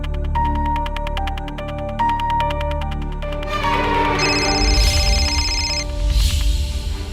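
A telephone rings repeatedly with a regular electronic ringtone pattern, loud and close. No one answers, and the ringing runs alone with no talk.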